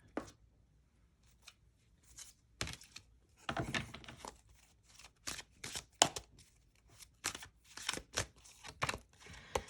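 Tarot cards are handled and shuffled close to the microphone, producing a run of crisp, irregular riffling snaps and slides, quiet between bursts and denser in the middle.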